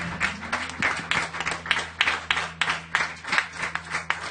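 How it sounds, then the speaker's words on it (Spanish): A church congregation at an evening service claps together in a lively, rhythmic beat, many hands sounding close and full over a sustained low musical tone. "Fuerte el aplauso para el Señor, claro que sí."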